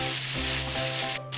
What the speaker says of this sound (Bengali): পটলগুলো ভাজা হয়েছে, লাল লাল হয়েছে,